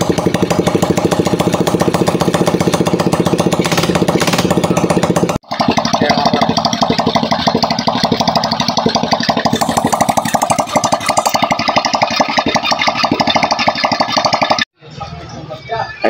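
A Honda Alpha motorcycle engine, rebuilt with a new crankcase, runs loud and steady during a test, its dense mechanical drone cut by two brief dropouts, the second near the end.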